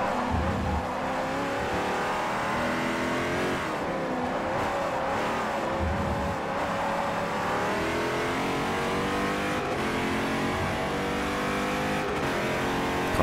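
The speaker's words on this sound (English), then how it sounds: "they are prototypes, so yes. You know, some of the fastest race cars in the world" LMP2 prototype race cars scream at high revs in Forza Motorsport 4, a steady loud engine whine rising and falling through gear changes, with no talking.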